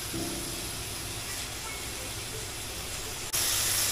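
Steady, loud hiss of pork chu chee curry stir-frying in a hot pan with kaffir lime leaves, yardlong beans going in, a continuous sizzle that jumps brighter and louder in the final half-second.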